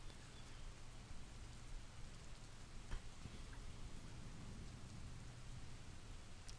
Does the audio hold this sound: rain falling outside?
yes